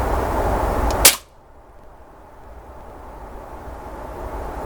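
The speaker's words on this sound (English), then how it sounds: "Taking the first shot." A single sharp crack from a Beeman 1357 air pistol firing, with a quiet steady background before and after it.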